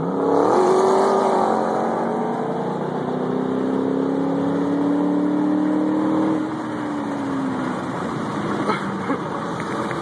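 A 2011 Shelby Cobra and a 2010 Sherrod Mustang racing in Lubbock, Texas, one engine climbing steadily in pitch under hard acceleration before a sharp shift and an easing roar, loud and close, with faint wind noise.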